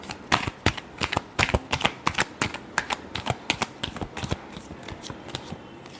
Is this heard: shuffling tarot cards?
yes